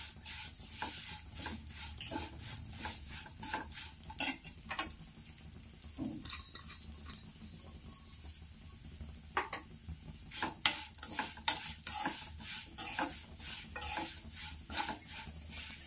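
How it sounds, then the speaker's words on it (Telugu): Vermicelli roasts in a kadai while a spoon stirs it, giving a steady run of soft scraping and clinking strokes over a faint low sizzle, close and moderately quiet. "సేమియాని బాగా రోస్ట్ చేసుకోవాలి."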